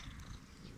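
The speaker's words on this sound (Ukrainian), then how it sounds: "Це мій кіт." Domestic cat purring up close, a soft continuous low rumble lasting under a second, faint and alone.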